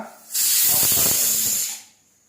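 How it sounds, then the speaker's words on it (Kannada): A pressure cooker whistle releases steam in one loud, close hiss that lasts just over a second, then fades quickly to quiet, in a kitchen where sugar syrup is being cooked. "ಕುಕ್ಕರ್ ಕೂಗ್ತಾ ಇದೆ"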